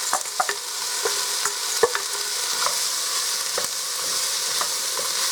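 Yellow sweet pepper and carrots sauté in a hot pot, a steady broadband sizzle broken by scattered sharp clicks and scrapes of stirring, close and continuous with no voices.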